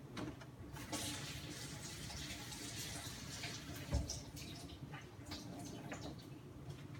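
Tap water runs steadily into a sink as a pewter or brass-nickel item is rinsed beneath it, a continuous broadband splashing with one brief knock partway through.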